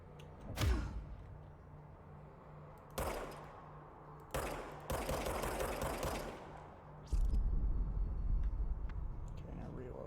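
Gunshots from the player's weapon in the video game Control: a few sharp, loud bursts spaced a second or so apart, separated by low ambient game rumble, ending in a sustained heavier low roar.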